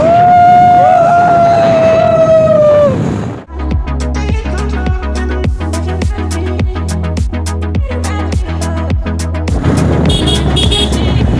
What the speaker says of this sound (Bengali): অনেকদিন পরে ভাই হর্নের আওয়াজ শুনছি